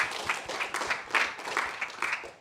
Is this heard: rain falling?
no